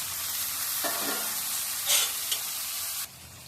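Fish and its oil dropped into a pan of frying onions give a loud, steady close sizzle with brief sharper spits and crackles, with no voices.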